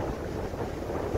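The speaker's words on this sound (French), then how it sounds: "Mais il y a un vent. Il y a un vent." Strong outdoor wind buffets the microphone on a walk near wind turbines in southern Italy, a continuous low rumbling roar with no other sound over it.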